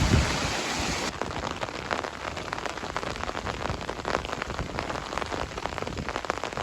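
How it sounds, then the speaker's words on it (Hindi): Heavy storm rain pours steadily in Dadyal, Azad Kashmir. It is a loud, dense, continuous hiss of drops beating on surfaces, close and unbroken, with no voices heard. "बारिश तेज हो गई है जी।"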